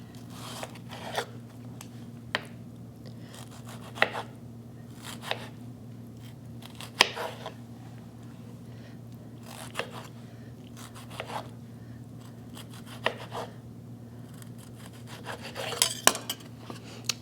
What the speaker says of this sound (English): I like this little serrated blade for cutting tomatoes. It just goes right through the skins so beautifully